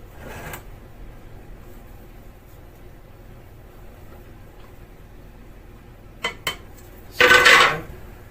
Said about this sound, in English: I'm going to stir around and get rid of all the dry flour